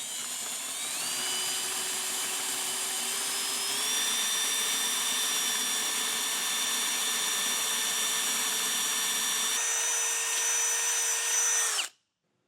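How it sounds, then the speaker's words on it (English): A power drill with a 1/2 inch bit bores a hole through the frame of a 2024 Ford Bronco, a loud steady whine that climbs slightly in pitch twice before stopping abruptly, with no talk. "we're going to step it up to a 1/2 inch with a 1/2 inch drill bit and drill that"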